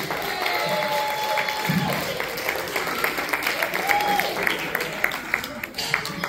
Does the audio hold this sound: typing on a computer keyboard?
no